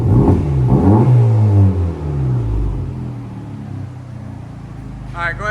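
A 2024 Honda Civic Type R with a 2.0L turbo and an AWE cat-back exhaust revs loudly up close, then the engine note falls away into a lower rumble as voices speak.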